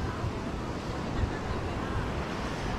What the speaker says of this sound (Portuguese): o mar tá enchendo, ó, e tá brabo o mar, viu?